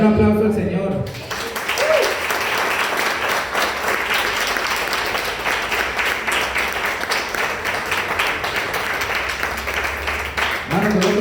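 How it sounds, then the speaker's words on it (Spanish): Church congregation applauding the Lord during a Spanish-language service, a sustained wash of many hands clapping that swells in after a brief spoken line and carries on steadily for several seconds before a voice resumes. "Denle un aplauso al Señor."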